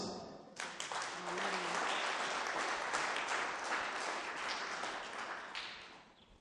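A church congregation bursts into sustained applause, many hands clapping together in a dense, steady roar that slowly fades toward the end.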